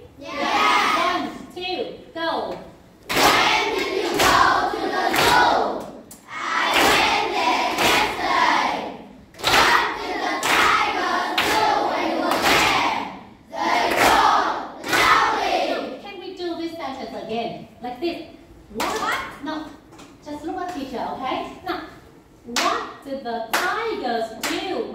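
Primary-school children in an English class clap their hands together in short rhythmic bursts, separated by brief pauses, alongside a teacher and children talking and chanting.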